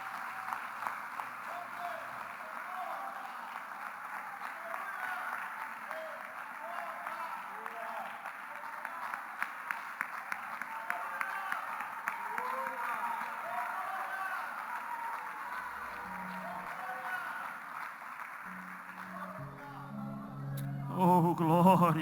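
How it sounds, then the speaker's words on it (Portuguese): A church congregation at a Sunday family service claps together in sustained, even applause that swells briefly before fading, with a voice speaking near the end. "Vamos aplaudir o Senhor mais uma vez."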